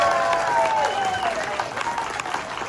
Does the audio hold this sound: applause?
yes